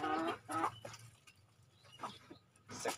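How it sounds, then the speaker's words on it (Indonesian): Free-range chickens, a flock of one rooster and five hens, clucking in a garden; several short, clear clucks come in bursts at the start, around two seconds and again at the end, with quieter gaps in between. "sekarang ayamnya tinggal 6 ekor teman-teman, 1 jantan 5 betina."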